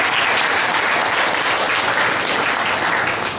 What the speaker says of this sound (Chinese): 拍手上帝。